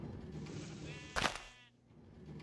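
A single Minecraft sheep bleats once, short and fairly close, against a quiet background with no talking.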